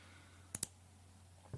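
Computer mouse clicks while editing images in Photopea, two crisp quick clicks close together near the middle and a fainter one at the end, over a quiet low hum with no talk.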